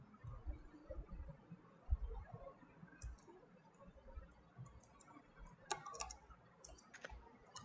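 Faint, quiet clicking of typing on a computer keyboard during a remote coding interview, scattered irregular keystrokes over low background noise.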